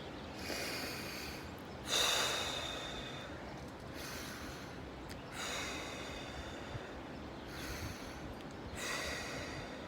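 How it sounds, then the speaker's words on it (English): A person takes slow, deep breaths one after another, with loud airy inhales and exhales at close range, the strongest about two seconds in, and the rest spread evenly through the quiet stretch. "We take 3 deep breaths."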